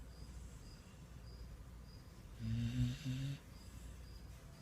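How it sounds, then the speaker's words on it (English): A puppy snores in one drawn-out, rasping breath of about a second, close and moderately loud over a steady background of chirping insects. "You still snoring?"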